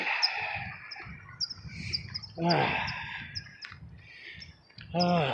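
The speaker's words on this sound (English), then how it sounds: "The birdies are alive and chirping." Small birds chirp and tweet repeatedly during an early morning walk through a park in Oak Grove, Berkshire, with scattered calls near and far over faint outdoor ambience.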